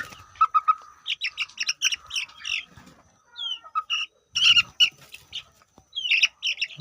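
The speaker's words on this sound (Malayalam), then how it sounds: "ഇതും നാടൻ കോഴി കുഞ്ഞാണ്" Native chicken chicks, young country chicks about seventeen days old, give repeated high peeping chirps in quick irregular bursts, close by and fairly quiet, with short pauses between the runs.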